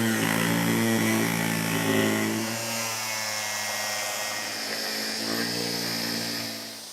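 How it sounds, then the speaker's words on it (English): A cutoff wheel slices through plastic bumper trim on a 2010-2024 Toyota 4Runner, a loud, steady high-pitched whine with strong harmonic drone that holds for about six seconds before easing off at the end, with no talking. "I like to use a cutoff wheel."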